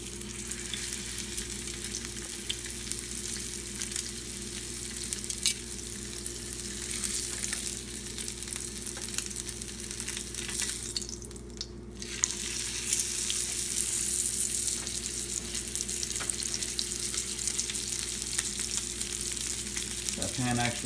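Ahi tuna searing in very hot oil in a pan, a steady bright sizzle running throughout, close and loud, with a brief dip near the middle before it swells again.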